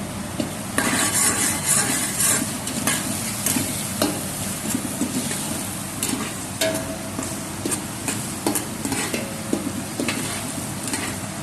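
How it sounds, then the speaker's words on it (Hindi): Ginger garlic paste sizzles and fries with onions in a pot for chicken biryani, a steady close crackle with a spoon stirring and scraping against the metal throughout. "अब मैं इसके अंदर जिंजर गार्लिक का पेस्ट ऐड करूँगा।"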